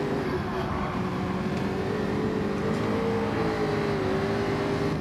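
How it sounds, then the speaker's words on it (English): Race car engine in a racing video game at Interlagos, Brazil, holding a steady loud drone whose pitch dips and shifts as the car gears down through the turns. "As we gear down."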